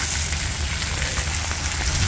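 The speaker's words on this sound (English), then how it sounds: "Even though it's raining on me" Steady rain hisses down near outdoor fountains in northwestern New Mexico, a dense, constant wash of droplets with low rumbling underneath, close and fairly loud throughout.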